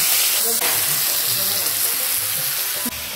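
Ash gourd tipped into hot oil with bay leaf, setting off a loud, continuous close-up sizzle and hiss that holds steady throughout with no break.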